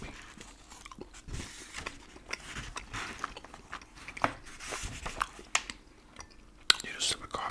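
Licorice allsorts being chewed close to the mic in a whispered reading session, with soft crunching and sticky bites spread irregularly through the clip under quiet whispering.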